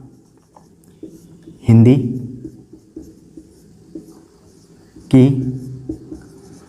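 A pen or marker scratches steadily as a topic name is written by hand in Hindi on a board or page. The soft scratching runs underneath a voice as he talks through a grammar lesson.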